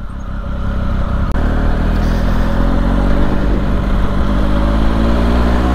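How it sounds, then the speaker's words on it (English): A Triumph Speed Triple RS motorcycle ridden through town: the engine runs loud, close and smooth at low speed, a steady mid-range growl with slight rises in revs and no talk. "Lovely and smooth, this engine anyway."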